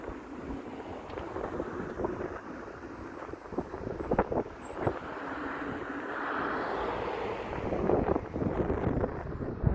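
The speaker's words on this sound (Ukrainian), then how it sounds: "Та й вітер такий досить сильний," Strong wind rumbles and buffets the microphone outdoors, a steady broadband roar with gusty low-end thumps throughout.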